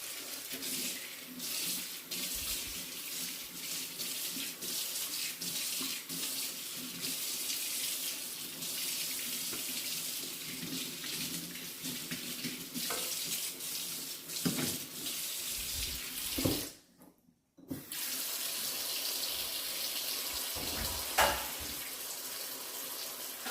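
Freshly harvested sorrel leaves are washed under a running kitchen tap, with a continuous close splash of water broken by one brief pause before the flow resumes. No one speaks.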